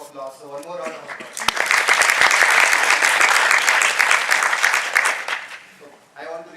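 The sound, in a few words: audience applause for a panel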